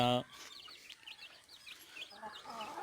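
Country hens and larger farm chickens cluck and chirp in a quiet yard, with short repeated calls at moderate distance. A faint voice talks underneath.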